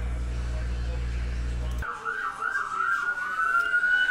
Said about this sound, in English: Got the sirens going on in the background because there's a trade.